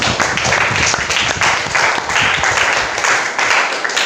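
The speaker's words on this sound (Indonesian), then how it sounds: "Kita beri tepuk tangan untuk kita semua dulu ya" Students in a classroom applaud together at the end of a lesson, a dense, steady clapping that sustains close by for several seconds with light voices mixed in.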